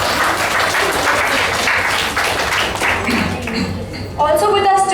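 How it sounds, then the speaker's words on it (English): An audience at a classical music concert gives a warm, dense round of applause that carries on under a speaking voice, with a louder burst near the end. "Please give him a big round of applause."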